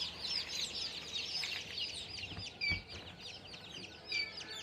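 Many native (deshi) chicken chicks cheep constantly in a high, chirping chorus, close and fairly quiet, with a few louder peeps standing out.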